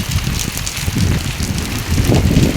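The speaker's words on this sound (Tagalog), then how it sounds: "Dahil medyo lumalakas na yung ulan, ramdam na sa kalsada yung agos ng tubig." Heavy rain pours onto a road, a dense, steady wash of noise with water running along the pavement, loud and close, with gusty wind buffeting through it and no voices.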